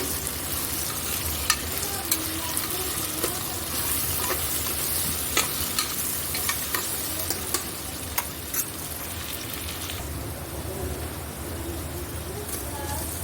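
Potato cubes and garam masala fry in a hot pan with a continuous close sizzle, punctuated by sharp, irregular clicks and scrapes of a spoon stirring and tapping the pan.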